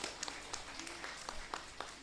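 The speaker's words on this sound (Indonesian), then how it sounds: "Tolong beri tepuk tangan untuk narasumber kita sekali lagi" Audience applause for a guest at an alumni talk show, a soft, fairly distant wash of scattered clapping with a few sharper individual claps standing out.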